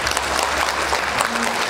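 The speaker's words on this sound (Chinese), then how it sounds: "掌声" Dense applause from a wedding banquet audience, many hands clapping together at close range in a short, continuous burst with murmuring underneath.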